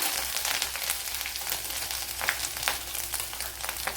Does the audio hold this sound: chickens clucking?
no